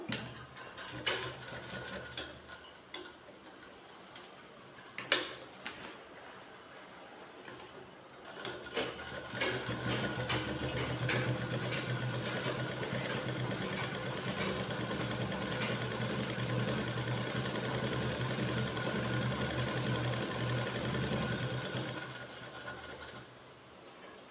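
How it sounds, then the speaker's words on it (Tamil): A sewing machine stitches a seam along a shirt collar band, a few quiet clicks at first, then a steady mechanical whir running for most of the clip before stopping. "காலர் பட்டி ஓரமாக ஒரு தையல் போடுறோம்"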